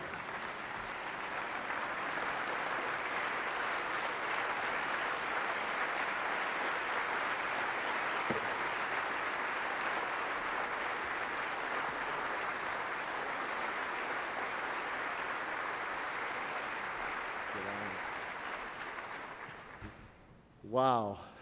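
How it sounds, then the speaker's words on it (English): Sustained audience applause greets a keynote speaker at a downtown business address, a steady dense wash of clapping lasting about twenty seconds, ending abruptly as a voice begins. "Would you get on your feet and give a round of applause"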